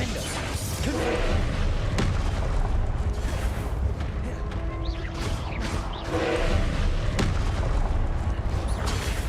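Confringo fire-blast spells in Hogwarts Legacy go off as loud, booming explosive bursts. Several heavy impacts come in quick succession under dense combat noise and game effects, with a voice talking over parts of the action.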